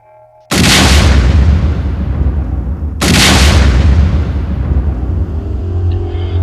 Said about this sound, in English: the military detonated the first ever atomic bomb